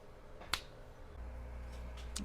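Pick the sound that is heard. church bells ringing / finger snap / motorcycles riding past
finger snap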